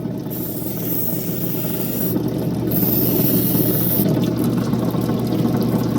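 Steady rushing water runs continuously from an opal-cutting setup, draining into a 5-gallon bucket; a constant close, moderately loud flow with a low hum underneath and no talking.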